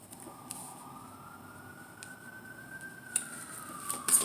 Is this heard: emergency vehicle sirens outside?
yes